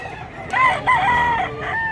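A rooster at a market in Mantalungon, Cebu crows loudly and close, a single drawn-out call with rising and falling tones over faint background noise.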